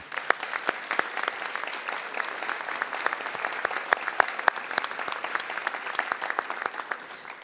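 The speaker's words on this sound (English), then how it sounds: "Let's give them a round of applause." Crowd at a city's State of the City address applauding police, firefighters and dispatchers, sustained hall applause with sharp individual claps standing out, moderately loud throughout.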